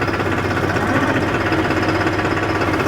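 A New Holland 5510 Excel 4WD tractor engine runs steadily while the tractor shuttles forward and back. It makes a loud, close, continuous diesel rumble with a rapid knocking beat and no voices.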